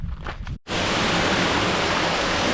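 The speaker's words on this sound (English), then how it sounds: "I'm under the waterfall." A mountain waterfall on Mount Timpanogos roars loud and close, a steady broadband rush that cuts in suddenly after a brief faint murmur and then stays constant without a break.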